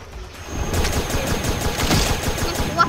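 Rapid automatic gunfire crackles in Animal Revolt Battle Simulator, a dense continuous burst of shots at steady loudness throughout.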